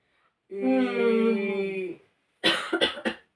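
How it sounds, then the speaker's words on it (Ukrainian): A sustained voiced tone is followed by a short burst of harsh coughs, close and loud. "Щось я вже кашляю."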